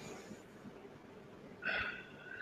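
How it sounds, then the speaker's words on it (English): A single sharp human sneeze bursts out near the end, close and fairly loud, after a stretch of quiet breathing-level room noise with no talking. "Sorry. I had to sneeze."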